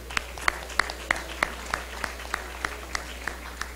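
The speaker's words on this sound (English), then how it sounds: "Another round of applause for our award winners" Applause for award winners at a college athletics awards ceremony, with a steady, evenly spaced run of fairly faint claps continuing throughout.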